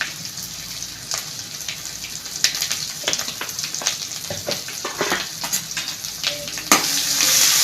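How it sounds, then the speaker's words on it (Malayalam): Onion and chilli frying in a pan with turmeric powder for a Kerala-style papaya stir-fry, sizzling steadily while a spoon scrapes and stirs in repeated clattery strokes, close and fairly loud, without speech. "എല്ലാം കൂടി ഒന്ന് ഇളക്കി മൂത്ത് വെച്ചിരിക്കണം."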